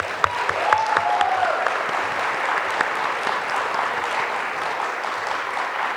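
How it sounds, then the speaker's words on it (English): Audience applause at a queer youth leadership awards ceremony, a steady wash of many hands clapping that holds evenly for the whole stretch, with a brief tonal squeal near the start. "Another round of applause."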